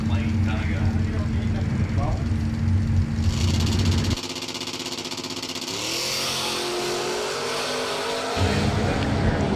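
Drag race cars, including a 1993 Mustang, launch at a bracket racing event, loud engine roar and revving shifting pitch across the run, with a commentator talking over it throughout.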